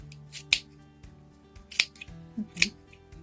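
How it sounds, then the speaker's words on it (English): Scissors snip yarn in three quick, crisp cuts spaced about a second apart, close and quiet, with no talking. "let me see how it is with these scissors"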